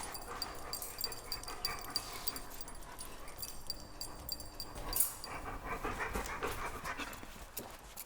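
A dog pants rapidly nearby with soft breathy huffs, occasionally giving a small whimper, over quiet background noise.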